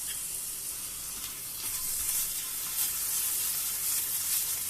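Ginger garlic paste hits hot onions in a pan over lowered heat while cooking egg curry, giving a steady, bright sizzling hiss that swells slightly midway and continues throughout.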